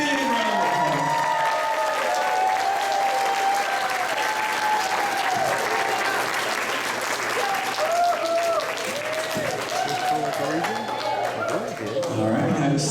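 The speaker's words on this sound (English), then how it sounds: "Give them a big round of applause." A school band concert audience gives a big, loud round of applause to honored students, continuous dense clapping with scattered voices and cheers chattering underneath throughout.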